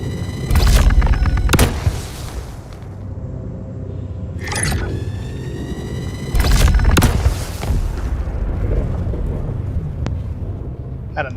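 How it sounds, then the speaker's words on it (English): Video game explosions from missile launchers hitting a heavy vehicle: several loud booms with rumbling tails, clustered in bursts spread across the stretch, with scraping and vehicle noise between them. "Had a nice cluster of explosions right there."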